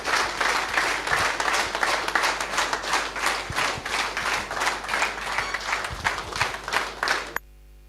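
A seated audience at a program session breaks into loud, sustained applause, with dense clapping filling the room for several seconds before it stops abruptly.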